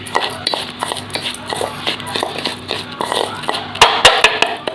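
A spoon stirs rice with ghee in a bowl for payesh, with quick repeated scraping and clinking strokes close by, ending in a few sharper taps against the bowl.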